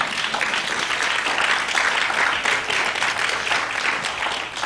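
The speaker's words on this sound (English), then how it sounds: "Can we give a round of applause for our panelists?" Sustained audience applause for the panelists at an East County NAACP Youth Council community event, a dense, steady wash of many hands clapping close by, holding level for the whole stretch.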